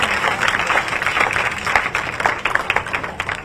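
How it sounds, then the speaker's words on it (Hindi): Children at a vaccination campaign event clap together in a dense, steady round of applause from a large crowd that fills the whole stretch. "ताली बजा के तुम भी बधाई दो मेरे बेटा बेटी"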